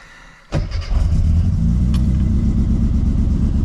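A classic Mini's engine, unused for seven months, cranks briefly and catches, settling into a loud, close, rumbling idle.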